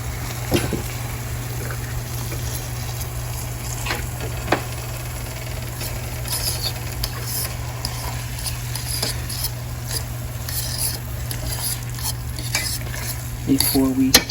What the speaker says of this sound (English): And now I'm going to go ahead and add some broth.